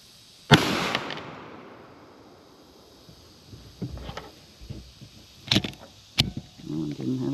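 A .22 TCM gun fires into the dirt with one sharp, loud crack that rings out and decays. Several softer clicks and thuds follow, and a brief voice comes in at the end.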